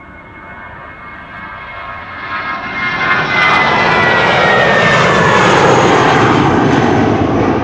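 A United airliner's engines swell from a distant rumble into a loud, steady roar that holds for several seconds, with no voices over it.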